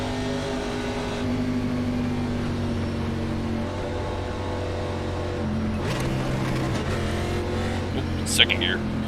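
The engine of a stock car in the iRacing NASCAR game, running in the ARCA Series at Indianapolis Motor Speedway, hums steadily under pace laps and then jumps in pitch as the car shifts. Someone talks over it.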